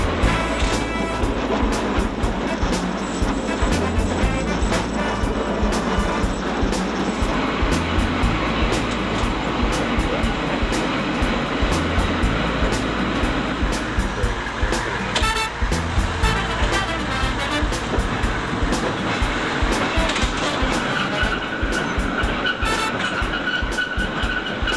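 Ferries and Cliff House Railway car travelling along its track, a continuous loud rattling, rumbling and grinding with rhythmic clatter and metallic squeals throughout.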